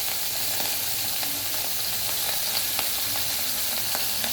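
Paneer fries in a pan with a steady, close hiss and sizzle, scattered small pops and crackles running throughout with no talk.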